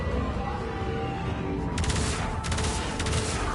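Railjack ship guns in Warframe fire in short repeated bursts over a dense, steady rumble of space combat, with two rapid clusters of shots standing out from the continuous din.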